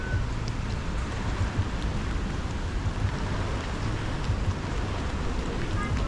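Steady rain pattering down in Copenhagen in a continuous, even hiss, with no voices and no breaks.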